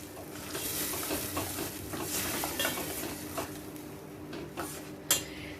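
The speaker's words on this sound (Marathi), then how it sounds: "त्यानंतर आपण टोमॅटो वाटला होता तोही घालून घ्यायचा" Ground tomato paste is stirred and sautéed in a pan for a Malvani pomfret thali, with soft frying hiss under repeated scraping and tapping of a spoon against the pan, fairly quiet and close, with no talking.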